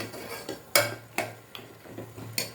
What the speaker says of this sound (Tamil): மசாலா போட்டு நல்லா மிக்ஸ் பண்ணி விட்டுக்கோங்க.